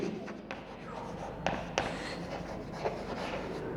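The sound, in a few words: pen writing on paper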